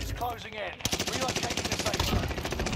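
Rapid bursts of automatic gunfire in the video game Warzone begin abruptly after a brief voice and then rattle on steadily and loudly to the end.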